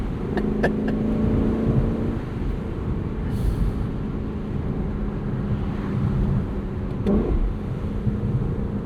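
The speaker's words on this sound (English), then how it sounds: "they would not guess that that noise comes from a Lexus LC 500" A 2024 Lexus LC 500 with its 471 hp V8 cruises top down, a steady broad engine and road roar with wind buffeting, one sharper swell of exhaust near the end, no talking.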